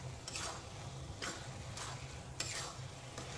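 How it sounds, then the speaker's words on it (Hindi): A pot of salted bottle gourd kheer being stirred: soft bubbling simmer under several distinct scraping strokes of a spoon against the bottom of the pot. "फिर से अच्छे से चला देते हैं ताकि नीचे ये जलने ना पाए"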